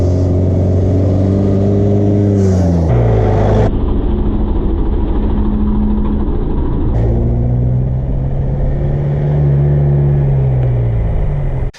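ICON Old School Edition truck with a diesel engine revving, loud and close, with long rising and falling throttle sweeps and gear-like drops over a steady rumbling idle.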